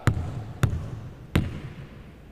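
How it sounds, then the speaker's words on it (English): A basketball bounces three times on a court during free throw practice, leaving three separated thuds over a steady background. "That's a swish, that's gonna roll back to him."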